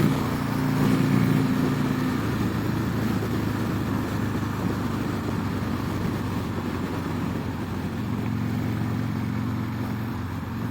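A 2006 Harley Davidson Sportster 1200 rides through city streets, its engine a steady, loud, rumbling drone with slight shifts in tone as the speed changes, close and continuous with no talk.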